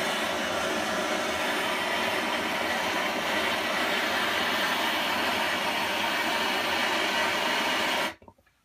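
A gas torch heats a piece of brass while a rifle barrel is slugged. Its flame gives a loud, steady roaring hiss that holds evenly for about eight seconds, then cuts off abruptly into near silence.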